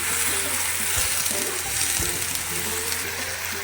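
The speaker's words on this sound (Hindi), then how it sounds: "और इसको टमाटर डालने के बाद हम इसको अच्छे से चला लेंगे।" Onions and tomatoes crackle and fry in a hot pan while being stirred, a continuous close sizzle broken by a few soft scrapes of the spoon.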